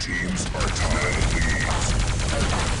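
Sustained machine gun fire in the arena shooter Quake Live during a team deathmatch, a dense continuous rattle of close shots with brief whining weapon tones layered over it.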